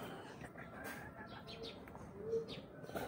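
Pet birds cooing softly in a home, low repeated coos with a few faint chirps over steady background hiss, fairly quiet throughout.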